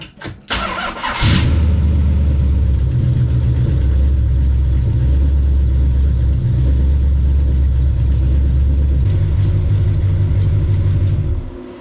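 A 1970 Dodge Challenger's rebuilt engine, fitted with a new oil pan gasket, cranks and catches, then settles into a loud, steady rumbling idle with slight changes in revs, up close.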